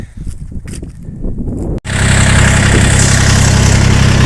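YTO 244cx tractor hauling a six-metre log through deep mud, its engine rumbling close and loud, then rising to a heavy, steady drone after a brief break.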